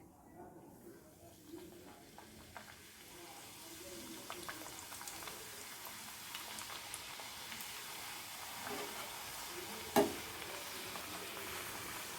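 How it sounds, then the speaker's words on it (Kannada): Shankarpali dough pieces fry in oil over a low flame, a quiet, even sizzle that grows slightly busier and carries one brief louder knock near the end. "ನೋಡಿ ಫ್ಲೇಮ್ನ ಸಣ್ಣಕ್ಕೆ ಇಟ್ಟಿದ್ದೀನಿ ಈಗ ಸ್ವಲ್ಪ ಹಾಕ್ಕೊಂಡು ನೋಡೋಣ ಕರಿಯೋಣ"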